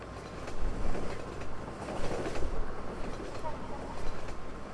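A train rolls past in the video game Half-Life 2, a steady rumbling rush of wheels and carriages that swells and fades slightly, with a faint voice beneath.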